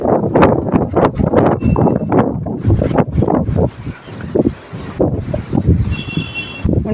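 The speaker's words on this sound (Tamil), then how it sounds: "இப்படி ஒரு காற்றடிக்குது." Strong gusty wind before rain buffets the microphone in a garden with lotus plants, roaring loudly in surging waves throughout with no talk.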